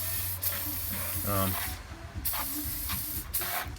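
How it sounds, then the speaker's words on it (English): Bursts of aerosol spray hiss onto the wheel bearing area of a Jayco Eagle pop-up camper trailer, a few short sprays separated by pauses, fairly close, with some faint handling noise between them. "Spray some of that on there too"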